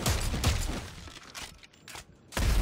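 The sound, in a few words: gunfire in the video game Dead Space 3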